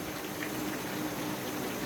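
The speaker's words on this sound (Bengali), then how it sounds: "পানিটা দিয়ে দেবো সাথে" Water poured into a pot of chicken and papaya curry, a steady rushing splash that runs unbroken for about two seconds with no voices.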